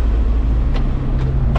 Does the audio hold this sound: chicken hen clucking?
no